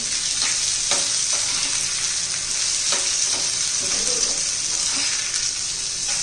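Semolina snack with green chillies frying in a pan, a steady, loud, close hiss of sizzling oil throughout, with faint stirring clinks underneath.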